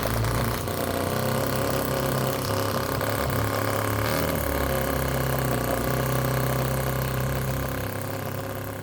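Miniature 1/5 scale Harley Davidson V-twin petrol engine running steadily, a loud, close, continuous idle with a rough pulsing drone and no speech.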